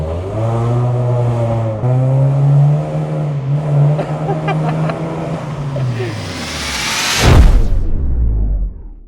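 A 2017 Honda City project car revs hard at night, its engine droning in a sustained, harmonic-rich tone before a sharp, loud surge near the end.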